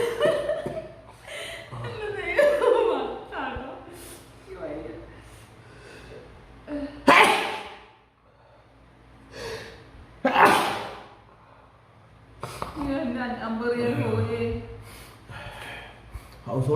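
Repeated sneezes during a sneezing challenge, several sharp loud bursts spaced apart, mixed with laughter and chatter between them.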